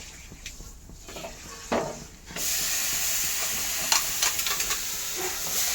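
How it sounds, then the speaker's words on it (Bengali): Spices hitting a hot pan with oil, starting as quiet stirring and scraping, then breaking into a loud, steady sizzle and hiss with occasional clinks of a utensil against the pan, close by and without voices. "এখন মশলাগুলোকে আমি ফ্রাই করে নেব"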